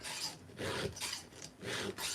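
A round metal file rasps back and forth in steady strokes while sharpening a chainsaw chain, each pass a harsh scraping sound up close.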